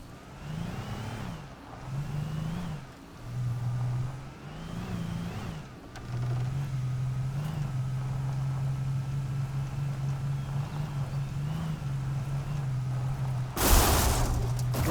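Cars in the video game Alan Wake rev their engines in repeated rising and falling surges, settling into a long steady drone before a sudden burst of noise near the end.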